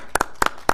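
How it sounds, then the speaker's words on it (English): Three quick pairs of hand claps ring out close and sharp at a North Las Vegas city council meeting, applause for the financial team, with brief gaps between each pair. "Could we give the financial team just a little bit of a clap for doing this for us?"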